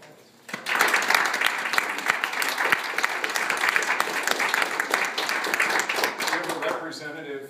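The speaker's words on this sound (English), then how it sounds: "ask that we give ourselves a round of applause" A room full of people bursts into applause at a library ribbon cutting ceremony, starting suddenly after a moment of quiet, sustained close clapping that begins to thin out toward the end.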